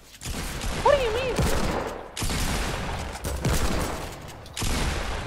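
Gunfire in the video game Fortnite on a Nuketown map, a few bursts of shots in short clusters, near and loud, with brief gaps between volleys and a short tonal game effect early on.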